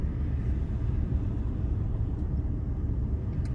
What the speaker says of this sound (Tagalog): Traffic papasok ng Kentucky.